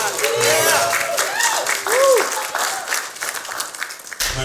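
Audience at a closing reception for an art collection's ten-year exhibition breaks into applause and cheering, a burst of clapping that swells then fades while a voice speaks over it.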